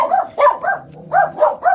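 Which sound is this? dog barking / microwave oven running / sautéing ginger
dog barking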